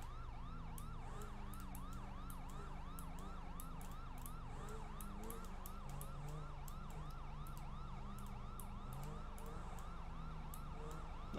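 Overlapping wailing sirens from several emergency vehicles pursuing through a city in a game chase, steady cycling tones over engine rumble with frequent short clicks, no talking.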